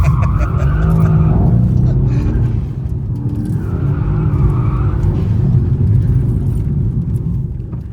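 A Mercedes C63 AMG driven hard roars loud and close as its tires squeal and skid almost nonstop, the engine note dipping briefly midway before surging again.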